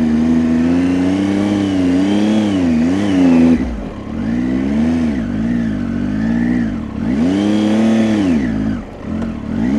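A motorcycle engine revs up and down in repeated swells while the clutch slips, with the back brake used against the throttle for low-speed control. The engine is close and loud, and its pitch rises and falls unevenly.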